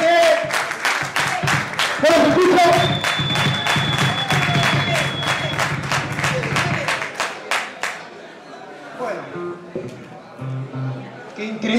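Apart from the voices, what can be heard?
audience applause at a live concert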